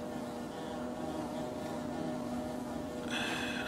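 Bees in the Hollow Knight video game buzz in a low, droning hum that carries steadily at low volume, with a brighter tonal layer joining near the end.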